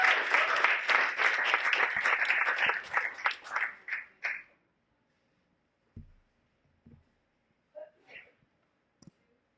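Audience applause and cheering at a live Ignite talk event, loud and dense for about four seconds, then tapering into a few scattered claps and faint thumps.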